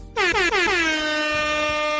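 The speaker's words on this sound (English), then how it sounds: "let me go ahead and hit these air horns for the century mark" A loud, brassy air horn blasts in three quick stuttering bursts, then holds one long sustained note.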